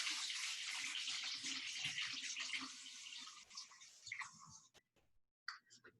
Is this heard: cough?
no